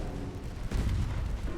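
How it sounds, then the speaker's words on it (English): 4-inch naval guns firing in the Ultimate Admiral Dreadnoughts warship game, a dull low boom landing midway over a steady rumbling battle bed, fairly loud and close. "We're just exchanging 4-inch gunfire"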